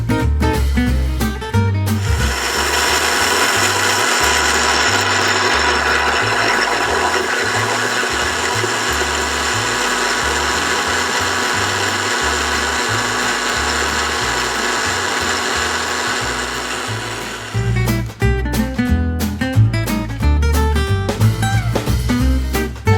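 A mixer grinder blends a homemade red velvet face pack with rose water into paste, a loud steady motor whir running nearly twenty seconds, then stopping and restarting in short pulses at the end.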